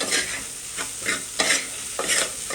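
Seasoned puffed rice (murmura) for bhel is tossed and stirred in a vessel, giving about five rhythmic, dry, rustling scrapes, close and clear, with no talking.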